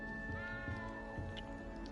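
In the Hogwarts Legacy video game a cat meows and caterwauls several times, close up and plaintive, over a steady ambient game drone.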